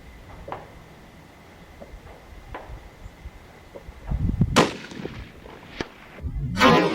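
A .243 Ruger American Predator rifle fitted with a Witt muzzle brake fires at 100 yards outdoors: after a quiet stretch of faint ticks, a single sharp, loud report rings out, followed by a second loud burst at the end.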